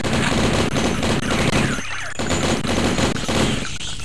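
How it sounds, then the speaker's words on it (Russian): Rapid gunfire from the video game Blood fills the clip as the player shoots at bats, a loud, dense, continuous barrage with brief dips in intensity. "Я стрелял по летучим мышам."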